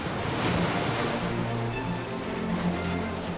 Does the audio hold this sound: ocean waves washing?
yes